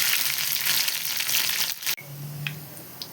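Cabbage pakkavada fritters frying in hot oil with curry leaves, a steady dense crackling sizzle that runs throughout, briefly cutting out near the end before resuming more quietly.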